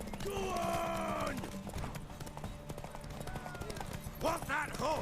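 Horse hooves gallop in steady clip-clop rhythm in The Witcher 3, mixed with in-game shouts, voices and other action sounds, fairly loud throughout.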